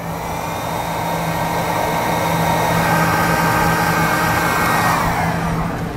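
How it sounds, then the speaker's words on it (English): A heat gun runs continuously at close range while shrinking a butt connector on trailer wiring, giving a steady loud blowing whine with a low hum underneath. "Take a heat gun and we will shrink up the butt connector."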